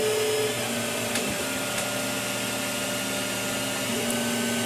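A CTC10S 3D printer lays down its first layer, a steady whirring hum of motors and fan with faint stepper whines, close and continuous without talk.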